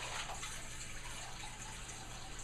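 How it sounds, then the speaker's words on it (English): Really cold, fresh, clean water pours steadily into a cooking pot, a continuous close rushing and splashing stream that holds an even level for the whole stretch, with no talking. "And now what I'll do is add some water. Really cold."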